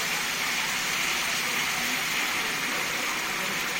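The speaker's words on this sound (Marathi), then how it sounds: "चला आता ह्याच्यात घालूया आपण गरम पाणी" Hot water poured into a pan of cooking ridge gourd and chana dal, a steady broadband gush and hiss that runs unbroken and fairly loud throughout, with no talking.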